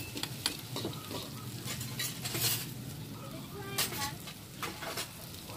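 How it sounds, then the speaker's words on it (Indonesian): Dried baby squid tossed with garlic and shallots in a hot pan, a steady sizzle of frying under repeated scraping and clinks of a utensil against the pan, close and continuous. "Baru kita gabungkan baby cumi keringnya tadi dengan bawang putih dan bawang merahnya tadi. Kita aduk-aduk terus."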